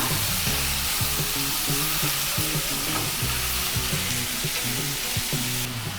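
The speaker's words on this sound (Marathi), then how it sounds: "मी टोमॅटो धुवून बिया काढून घेतले, लालसर होईपर्यंत भाजून घ्यायचा आहे आपल्याला" Deseeded tomatoes sizzle and fry in a pan, a continuous close, crackling hiss with faint stirring scrapes running the whole time.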